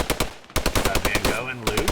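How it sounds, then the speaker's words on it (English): A machine gun in a video game fires rapid, loud bursts of evenly spaced shots at close range, with a short pause before the firing resumes. Faint voices sit underneath. "MG opens up and devastates"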